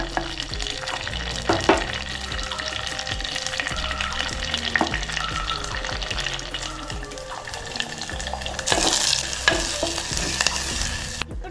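Onions, with fenugreek leaves, fry in a pot for chicken curry; a continuous close sizzle is punctuated by scraping stir strokes and clanks against the pot, with no speech.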